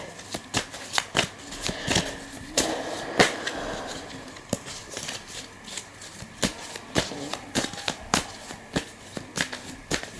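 Tarot cards being shuffled close up, a steady run of crisp riffling snaps and shuffles with short pauses between bursts, over a faint room hum.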